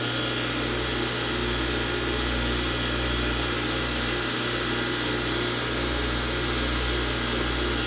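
Belt grinder grinding steadily, a loud, continuous abrasive roar with a constant motor hum underneath, unbroken throughout.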